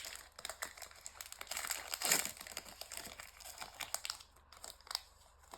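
A Pokémon card booster pack is torn open close by, its foil wrapper crinkling and crackling in quick irregular bursts that peak in a sharp rip, quiet overall with no talking.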